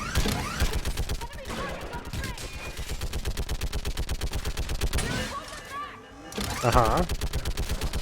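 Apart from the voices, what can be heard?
mounted gun firing in the video game Mass Effect 3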